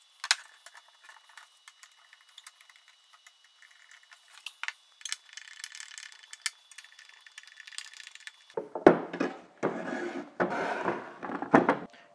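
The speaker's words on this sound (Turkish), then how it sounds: "Şimdi testereyle deliğimizi kesmeye başlıyoruz." A drill-driven hole saw cuts a hole in wood for a malt mill, first light rattling and ticking, then a louder, rougher grinding in uneven bursts toward the end.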